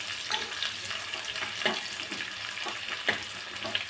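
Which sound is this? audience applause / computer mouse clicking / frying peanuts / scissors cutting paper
frying peanuts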